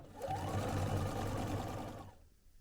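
A sewing machine runs in one continuous burst of rapid stitching for about two seconds, sewing Chenille-It trim onto the scalloped edge of a quilt, then stops into near silence.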